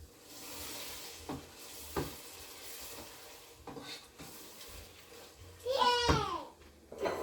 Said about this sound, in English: Keep frying to avoid it from getting burned